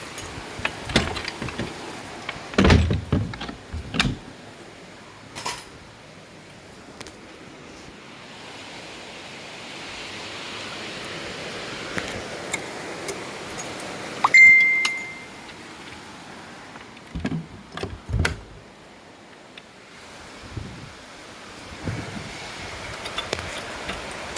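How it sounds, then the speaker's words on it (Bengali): Heavy rain pours outside a balcony as a steady broad hiss, with scattered knocks and clinks rising above it now and then. "দেখো কত জোরে বৃষ্টি পড়ছে"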